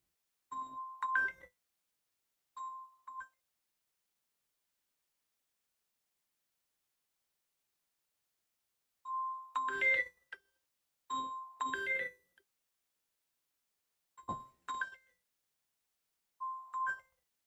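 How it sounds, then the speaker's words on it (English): A phone rings in short electronic chime bursts, spaced irregularly with long silent gaps, quiet and clear against an otherwise silent room. "let me see if I can turn this phone off"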